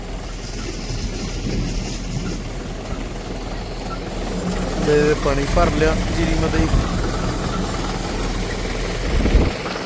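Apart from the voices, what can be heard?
tractor engine running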